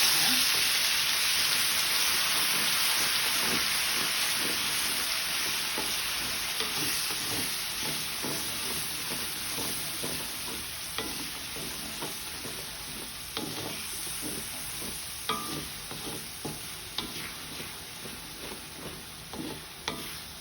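Blended chili paste fries and sizzles in a pan over low heat while it is stirred, a steady crackling hiss with repeated scraping strokes, fairly close and fading slightly over time.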